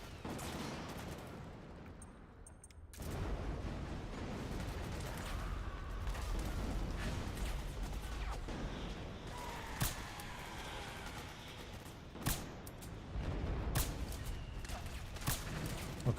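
Gunfire from the video game Metal Gear Solid 4: several sharp shots crack out intermittently over a dense, rumbling game soundscape, with a few louder isolated bursts toward the end.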